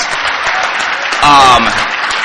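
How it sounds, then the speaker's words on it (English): Steady audience applause at a real estate conference, a dense, even clatter of clapping with a brief tonal sound cutting in midway. "I want to give her a big round of applause."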